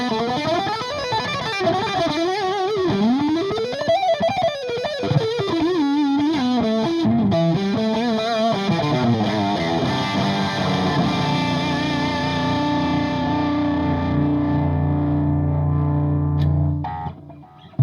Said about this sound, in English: this is what it sounds like with the level up on full and distortion on 3 o'clock.